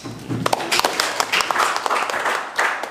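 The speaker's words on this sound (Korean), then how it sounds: "우리 모두를 위해서 한번 박수 칩시다." Clapping from a seated audience at a lecture on healthy eating, a brisk, dense burst of many hands with individual sharp claps standing out, close and steady for about three seconds.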